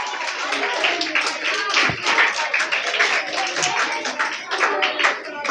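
Children clapping loudly together to welcome a guest at a vacation Bible school session, a dense, steady patter of many small hands filling the room, close and continuous.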